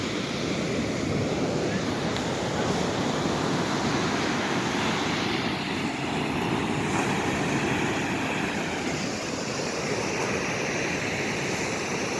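Sea waves surging and breaking in a steady, loud wash of surf, with wind noise buffeting the microphone throughout and no voices.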